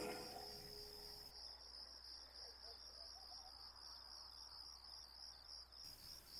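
Crickets chirp at night, a steady high-pitched trill pulsing continuously at moderate distance over a faint nighttime background, with no voices.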